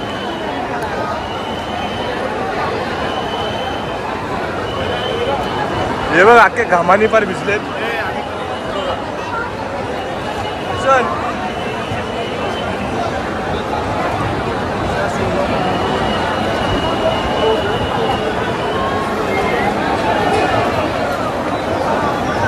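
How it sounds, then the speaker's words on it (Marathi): Dense crowd of devotees at Lalbaug Ganpati in Mumbai, a continuous close babble of many voices and shuffling movement, with someone speaking briefly over it. "तर तुम्ही गर्दी बघा इथं लालबागला."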